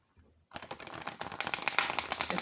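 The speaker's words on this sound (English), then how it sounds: "So let's try the bridge shuffle." A rapid flurry of crisp card clicks as an oracle card deck is bridge-shuffled, building into a dense fluttering patter, close and fairly quiet.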